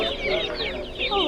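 Egg-laying ducks quack and chatter nearby in a noisy flock, overlapping calls rising and falling.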